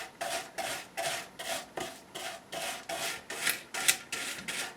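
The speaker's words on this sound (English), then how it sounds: "I'm going to really kind of scrub and coat it." A silver bracelet is scrubbed in quick back-and-forth strokes, roughly a dozen rasping rubs in a steady rhythm, close to the listener, with no voices.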